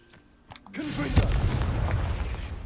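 Confringo fire spell blast in the video game Hogwarts Legacy, a sudden loud booming explosion that swells into a sustained crackling roar after a short quieter lead-in.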